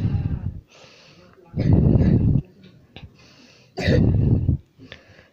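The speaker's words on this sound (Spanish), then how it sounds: "una disculpa se escuchó mi hermano tosiendo" Two loud, harsh coughing bursts stand out close to the microphone, separated by quieter breathy pauses and small throat noises.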